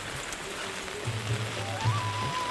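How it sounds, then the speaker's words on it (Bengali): Rain patters steadily on a village tin roof, a close, even wash of drops with a faint tonal whine drifting through, and no talking. "টিনের চালের উপর টুপটাপ শব্দ হয়"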